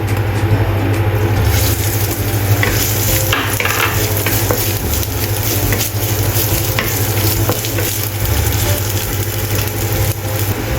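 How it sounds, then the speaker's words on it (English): Chopped ginger stir-fries in a wok with continuous loud sizzling and scraping stirs, a steady crackle over a low rumble of a burner or range hood. "Stir-fry chopped ginger until release fragrance."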